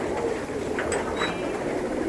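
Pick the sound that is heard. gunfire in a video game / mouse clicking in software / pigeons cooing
pigeons cooing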